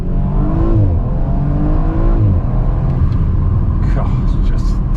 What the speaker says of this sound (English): we get some crackles, some subtle crackles at the back of this exhaust